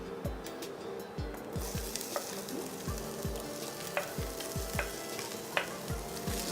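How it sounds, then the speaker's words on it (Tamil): Onions fry in olive oil over a low flame as they are stirred, giving a continuous sizzle with regular soft scraping strokes from the stirring, close and moderately loud, with no talk. "நல்லா பொன்னிறமாக வர மாதிரி வறுக்கணுமா?"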